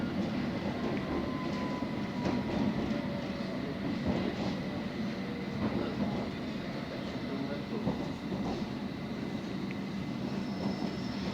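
A London Underground Hammersmith & City line train arriving at Farringdon rumbles steadily from inside the carriage, with a continuous low roar of wheels and motor and a faint voice underneath.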